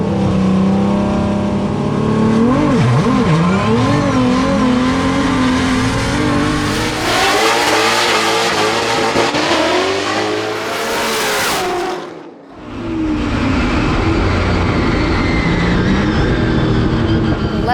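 Formula Drift cars launch side by side in a drag race, engines screaming loud and rising in pitch with tire squeal, dropping away briefly before roaring back up.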